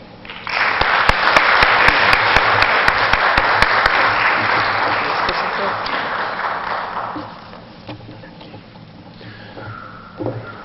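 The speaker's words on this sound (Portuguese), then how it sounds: "vamos agora receber com a salva de palmas" An audience at a Spiritist week event in New York applauds to welcome a speaker to the front. The dense, loud clapping lasts several seconds, then tapers off into quiet room noise.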